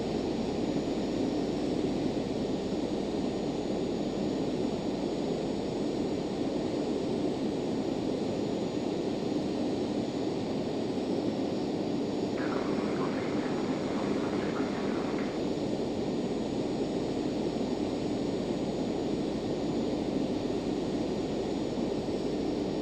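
Steady jet roar of a Cessna Citation Jet 525's engines climbing through a heavy snowstorm at night in a flight simulator, a constant broadband whoosh with a faint tonal whine, briefly joined by a soft chiming tone midway.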